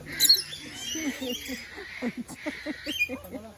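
Lovebirds at a safari park give shrill, squawking chirps in quick, irregular bursts close by, with people talking softly in the background.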